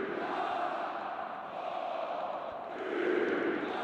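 Football stadium crowd at a Dynamo Dresden third-division match, a broad distant roar of massed voices that swells and dips, swelling louder toward the end.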